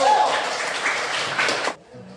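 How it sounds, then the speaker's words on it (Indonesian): A classroom of students claps for a group during a lesson, a short burst of applause that holds briefly and then cuts off abruptly into near quiet. "Beri tepuk tangan dulu untuk kelompok 1"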